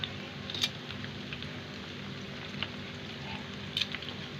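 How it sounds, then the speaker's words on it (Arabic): Food frying in hot oil in a home kitchen gives a steady, soft sizzle with scattered crackles and pops, a few sharper spits standing out, no voices. "هنا كده انا حطاها في الزيت اهي، وهي مش هتاخد معانا وقت خالص"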